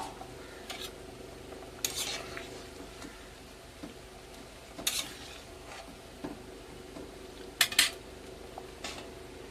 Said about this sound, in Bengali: তরকারিটা ফুটে উঠেছে, এইবারে চিংড়ি মাছগুলো দিয়ে দেবো।